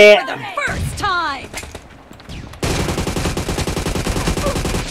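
Gunfire in PUBG Mobile during a team deathmatch on the Livik map, a burst of rapid, dense automatic shots running continuously after a short stretch of talking and game noises.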